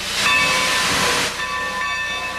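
Giant steam locomotive of the type most common on American railroads, an engine that hauled Southern freight and passengers, releasing a loud, steady hiss of steam that drops slightly after a second but keeps going, with a thin whistle-like tone over it.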